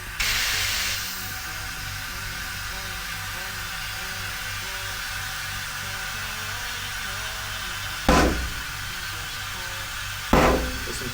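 Car tyre being inflated on its rim with a tyre inflator, a steady loud hiss of air broken by two sharp bead pops a couple of seconds apart near the end, close and with no talk.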